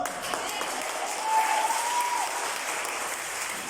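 A worship congregation at a church service claps together in a dense, steady wash of applause that swells slightly midway, heard at a moderate distance and fairly quiet, with a faint voice rising over it.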